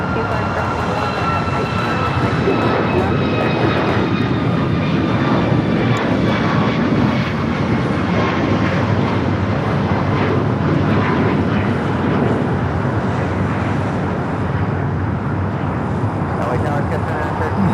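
An airliner lines up on runway 25 left at Los Angeles International Airport, giving a continuous loud jet engine roar with a high whine across the whole stretch. Voices come through under the noise.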